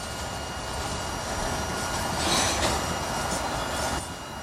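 A freight train rolls downhill toward a junction near 10th Street in Lakeland, a steady rumble of rail cars with a brief swell of wheel squeal partway through, heard from trackside at moderate distance.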